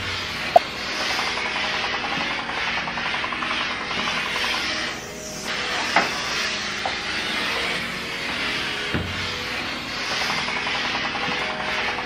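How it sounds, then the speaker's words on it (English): A Bissell Power Fresh Slim steam cleaner with a brush and scraper works on a greasy kitchen oven door, giving a steady hiss and scrubbing rub for several seconds, with a few small knocks and a brief dip in the middle. "it's a steam cleaner, so it cleans and sanitizes with steam"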